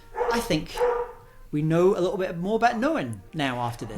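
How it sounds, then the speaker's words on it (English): Two dogs bark and yip in the background of an indoor setting, intermittent and fairly distinct beneath a person talking steadily throughout. "you can probably hear my dogs, both of them, barking in the background now."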